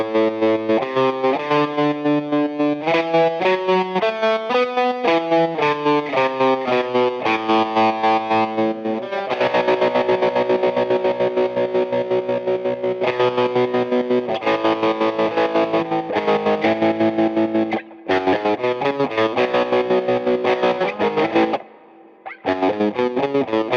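Electric guitar runs through a distortion pedal into a JHS Kodiak tremolo pedal, loud sustained distorted notes and chords pulsing with rhythmic tremolo throughout, with only a brief dropout near the end and no voices.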